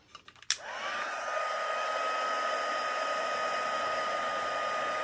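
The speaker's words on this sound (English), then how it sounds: "Now we're going to hit it with a heat tool." Embossing heat tool blowing hot air onto embossing ink and powder, a steady loud whoosh with a high whine that switches on after a click and runs evenly without talk.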